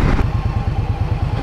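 An Indian Scout 1200 motorcycle engine roars up close with a loud, pulsing low rumble and rattling throb throughout the short moment.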